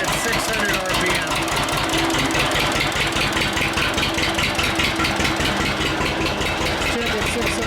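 Carbureted engine idling steadily at about 600 RPM, a continuous loud, even rumble with a rapid regular pulse running unbroken throughout, with occasional talk over it.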